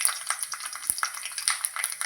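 Dried red chillies crackle in hot oil along with popping mustard seeds, a steady close sizzle broken by a few sharp spits, with no talking.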